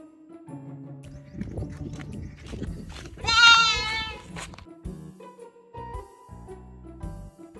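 Goats on a farm give a loud wavering bleat in the middle, with scattered rustling, thumps and shorter animal calls around it, close by and without clear talk.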